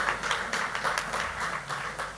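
An audience at an MOU signing ceremony between the City of Toronto and Film City claps together, producing a moderately loud, uneven patter of hands that continues throughout without voices.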